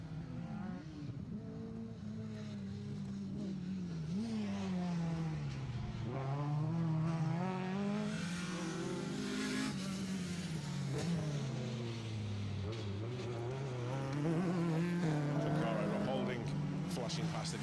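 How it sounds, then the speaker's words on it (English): A Ford Escort rally car on a circuit rally stage howls past, its engine note rising and falling through gear changes, loud and close, with a commentator talking over the passing car. "Flashing past the camera as well in the escort"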